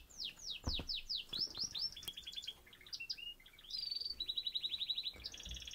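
Canaries, including gloster and brown varieties, sing and chirp in quick repeated trills and rapid rising notes, close and clear, with a fast rolling series of chirps in the latter part.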